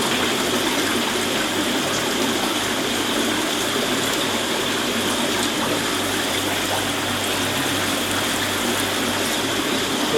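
Aquarium pump draining water out of an Evolution Aqua Nexus 310 filter, a steady close trickle and gush of flowing water over a constant low mechanical hum, with no talking.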